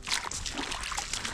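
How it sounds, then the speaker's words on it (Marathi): Water trickles over a small stream crossing on a jungle trek in Maharashtra, a close, steady splashing and gurgling with no voices. "असे छोटे मोठे पाण्याचे क्रॉसिंग पण येत राहतात मधामधात. याला पार करत आपल्याला समोर जायचं आहे."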